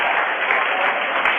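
Big crowd at a 2011 girls' high school basketball game applauding an injured player as she returns to the bench, a dense, bandlimited roar of clapping sustained throughout.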